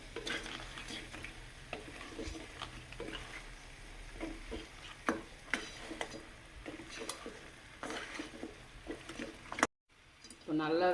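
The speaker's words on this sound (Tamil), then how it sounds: "இதை நல்லா வெங்காயம் தக்காளி கூட" Crab being stirred in a pan with onion and tomato, with repeated scraping and clinking of a spoon against the pan over a soft sizzle, close and fairly quiet, and a voice talking near the end.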